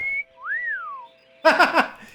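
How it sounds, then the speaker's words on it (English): A person whistles at a pinup picture: a short steady tone, then a rising and falling wolf-whistle glide, followed by a quick burst of talk. "Whistles."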